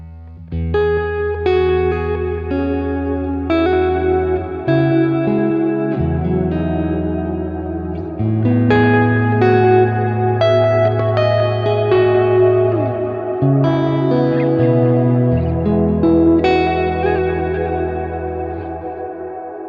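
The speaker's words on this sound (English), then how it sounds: "So this is just the long reverb on its own." An electric guitar through a Kemper amp plays slow notes washed in long, spacious reverb, each chord swelling and lingering into a smeared ambient tail.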